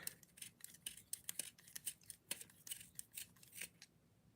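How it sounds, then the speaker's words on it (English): A pencil turned in a small plastic TMNT dollar-store sharpener, giving quiet, close, rapid scraping and shaving clicks in an irregular rhythm. "I have my TMNT sharpener"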